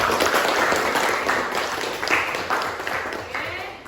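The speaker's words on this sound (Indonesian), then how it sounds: "berikan tepuk tangan dulu untuk temannya." Classroom applause from a group of students clapping together, steady and fairly loud, slowly easing off toward the end with no voices over it.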